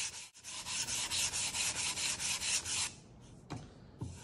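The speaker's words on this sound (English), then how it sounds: "I'm going to go ahead and lightly sand this." Wood coated with water-based polyurethane tinted with India ink is lightly sanded between coats: close, steady rhythmic rubbing strokes for almost three seconds, then two short scrapes after a quieter pause.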